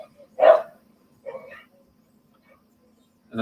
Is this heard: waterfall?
no